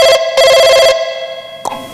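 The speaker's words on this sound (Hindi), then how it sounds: "किसका फोन आ रहा है?" A telephone bell rings in two loud, close bursts with a short gap between them, then falls quiet apart from a brief click near the end.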